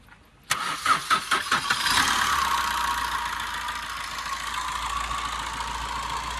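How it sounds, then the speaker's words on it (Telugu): A 2014 Maruti Swift Dzire diesel engine cranks with a few quick turns, catches, and settles into a steady, even idle close by. "ఇంజన్ కూడా చాలా స్మూత్ ఉందండి బండిది సీల్డ్ ఇంజను"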